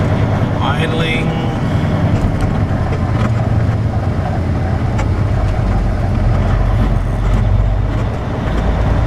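A flatbed semi truck's engine idles with a steady low rumble that drones throughout without pausing, close by.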